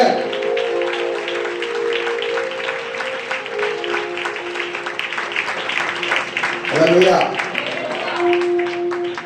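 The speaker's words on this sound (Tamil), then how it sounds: "கைதட்டுங்க" A church congregation at a carol service claps together in a steady, dense patter that fills the room, with a preacher's voice speaking over it.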